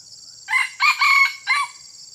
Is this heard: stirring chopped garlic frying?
no